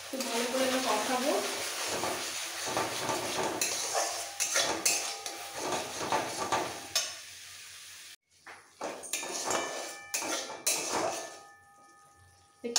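Egg devil masala being stir-fried in a pan, with close, steady sizzling and scraping of a spatula against the pan, briefly cutting out near the middle before resuming.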